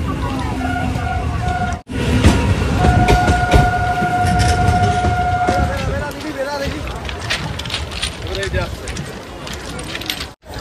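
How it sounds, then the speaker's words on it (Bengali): At the crowded Thakurnagar fair, a train creeps slowly through a dense throng of people, its rumble broken by a long horn blast while crowd voices and talk fill the air around it. "ট্রেনগুলো যাচ্ছে অনেক কষ্টে,"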